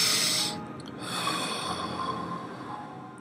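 A single long, breathy exhale through the nose or mouth during a belly breathing exercise, a soft rushing hiss that starts strong, then eases and trails off.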